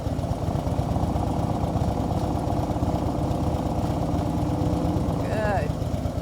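Motorcycle engine running steadily at low revs, likely a Harley-Davidson Road Glide on the road, a continuous close rumble throughout with a brief higher tonal sound near the end.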